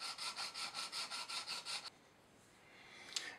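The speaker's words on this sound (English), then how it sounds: "And just gently sand. The plastic until that whole angle is sanded." Thin 0.5mm plastic card sanded by hand for a model railway building, a steady run of about ten quick rhythmic back-and-forth strokes, close and fairly loud, then stopping into quiet with a small click near the end.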